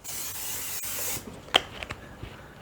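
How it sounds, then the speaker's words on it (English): Cooking oil sprayed into a big pan for ground beef, a hissing spray burst followed by a few faint clicks and rubbing sounds, nearby and with no speech. "I'm gonna put just spray a little bit of oil in there"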